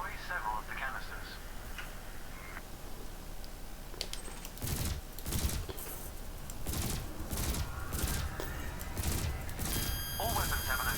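Ship weapons in Elite Dangerous firing at floating canisters during a combat training exercise, a run of rapid clicking shots in bursts after a quiet opening, moderately loud, with a voice heard at times.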